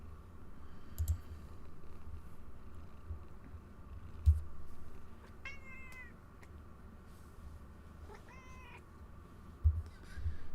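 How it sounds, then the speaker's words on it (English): An agitated cat lets out a couple of strained, wavering meows spaced a few seconds apart, fairly close, over a quiet room with occasional clicks and keyboard taps. "My cat's going ape shit."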